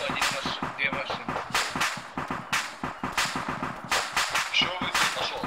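Rapid bursts of gunfire from the military shooter video game Arma 3 crack again and again in quick, uneven volleys, loud and close throughout.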